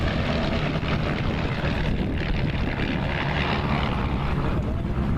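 Falcon Flight aircraft at the 2014 Hondo airshow flying a figure 8 maneuver, heard as a loud, steady, broad engine roar that holds constant throughout with no pauses.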